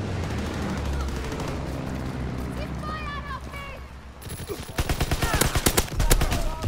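Rapid gunfire in Call of Duty WW2, loud sharp bursts of shots in the latter half, following a stretch of in-game voices and radio chatter.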